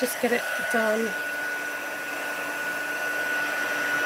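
Heat tool blowing hot air onto the back of a card for embossing, a steady loud whirring hum, with a brief voice at the start.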